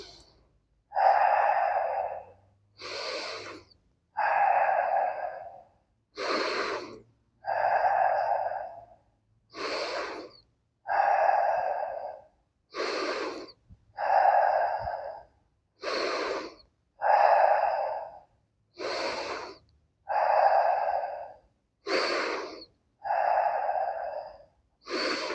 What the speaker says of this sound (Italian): Sempre respirazione dalla pancia.